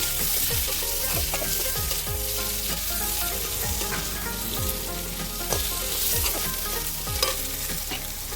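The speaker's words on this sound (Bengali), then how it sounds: "আলু আর কাঁচা লঙ্কাটা ভালো করে ভেজে" Potatoes and green chillies frying in hot oil, a steady close sizzle throughout with repeated scraping strokes of a spatula stirring the pan at an even rhythm.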